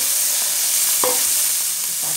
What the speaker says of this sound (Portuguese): vou colocar aqui o bacon para fritar primeiro